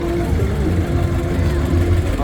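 An antique John Deere 70 farm tractor rumbles at a steady low idle during a tractor run parade in Harrah, Washington, loud and continuous while a person talks.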